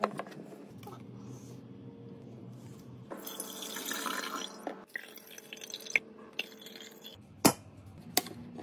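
Water runs from a tap in an irregular stream, with splashing bursts and a few sharp drips or clinks near the end.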